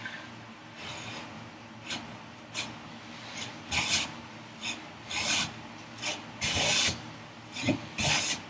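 A No. 6 hand plane takes shavings off a workbench vise chop in a series of rasping strokes, each about half a second long. The strokes fall roughly every second and sit close and fairly loud over a steady low room hum.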